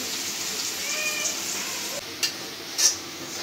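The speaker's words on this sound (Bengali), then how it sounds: "পেঁয়াজ ভাজা হয়ে গেছে" Onions fry in oil in a home kitchen with a soft, steady sizzle. A brief wavering meow-like tone rises partway through, followed by a couple of sharp clinks.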